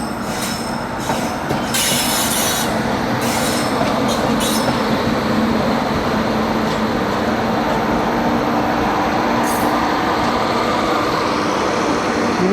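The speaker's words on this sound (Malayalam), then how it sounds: "4:45 ആയപ്പോൾ അടുത്ത വണ്ടി കയറി വന്നു." Express train pulling into a station on the Konkan route, a continuous loud rumble of railcars and wheels on track with intermittent high squeals and clanks, steady throughout with no voices.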